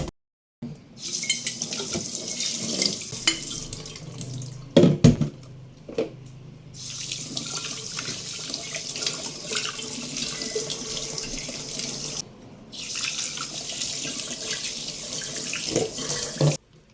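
Tap water runs steadily into a sink while a container is washed, a close continuous splashing stream with brief pauses when the flow is interrupted.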